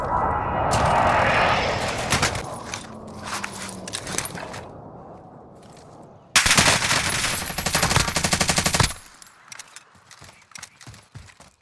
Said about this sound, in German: Luftschlag im Anflug.